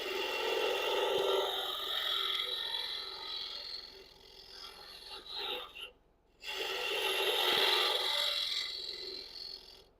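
Cupped carbide tool hollowing a wooden puzzle ball on a lathe, a loud continuous raspy scraping that swells and fades, with a brief gap before it resumes.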